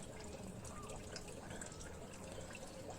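Harvested nutrient liquid from garden and shisham-leaf waste pouring into a container, a continuous faint trickling splash with soft dripping throughout.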